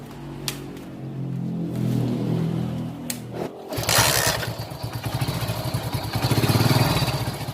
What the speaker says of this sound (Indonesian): Dan selanjutnya kita hidupkan mesinnya.